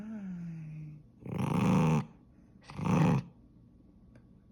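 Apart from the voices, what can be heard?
toy poodle puppy growling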